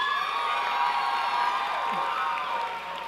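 An audience at a university spring commencement ceremony cheers, whoops and applauds for the class speaker, a loud sustained roar that eases slightly toward the end.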